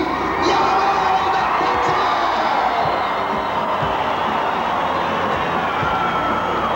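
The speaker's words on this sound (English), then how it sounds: "let's give a good round of applause to our winner tonight at 221 feet" Crowd at a 1988 tractor pull cheers and whoops for the winning puller, a loud, continuous roar of voices with shouts and scattered high yells filling the whole stretch.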